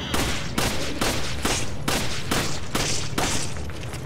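Rapid gunshots ring out in a Resident Evil game, about a dozen loud booming shots in a steady rhythm, each with a short echoing tail, dense and close with no voice over them.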